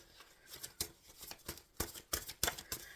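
Tarot cards are shuffled by hand at close range, a quiet run of crisp riffling flicks and soft slaps in an irregular rhythm with brief pauses.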